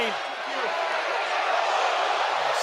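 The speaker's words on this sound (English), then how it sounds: "Listen to the crowd reaction as well." A wrestling arena crowd reacts as one wrestler attacks another, a loud, sustained roar of many voices filling the whole moment, with a voice faintly audible at the start.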